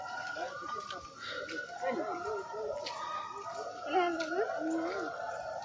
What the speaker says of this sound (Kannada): ಕಾಡು ನಾಯಿ ಇದಾವಂತೆ, ನೋಡಂಬರ್ರಿ.